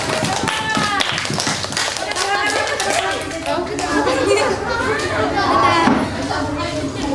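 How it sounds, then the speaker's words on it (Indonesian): Children in a primary school classroom clap their hands in a busy, steady patter, close and loud, mixed with lively kids' chatter and voices throughout. "Tepuk tangan."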